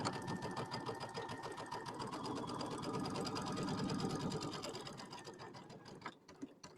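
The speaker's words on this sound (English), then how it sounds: "So we're just sewing all the way around this because we're doing that little envelope back" A sewing machine runs steadily, stitching around the edge of an envelope-back pillow cover trimmed with rickrack, its dense mechanical whir holding for several seconds before easing off near the end.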